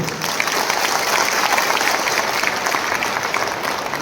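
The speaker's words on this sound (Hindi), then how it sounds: "तो जोर से ताली दो" A crowd at a community political gathering applauds loudly, a thick, continuous wash of clapping that stays even from start to finish.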